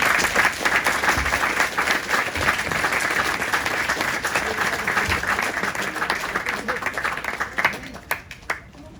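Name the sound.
audience applause at a fire brigade demonstration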